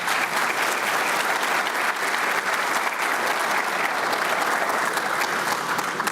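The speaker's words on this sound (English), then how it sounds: "So please give them a huge round of applause." A large keynote audience at an open source conference in London applauds steadily, a dense, even wash of clapping that holds at full strength from start to finish.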